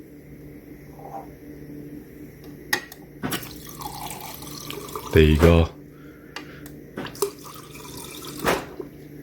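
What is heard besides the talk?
water flowing from unclogged refrigerator water line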